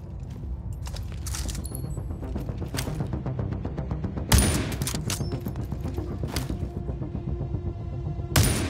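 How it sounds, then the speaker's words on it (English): Sniper rifle fire in The Division Resurgence: two sharp, loud shots several seconds apart over a busy background of rapid mechanical clicking and ticking. "Let's see how you perform with a sniper rifle."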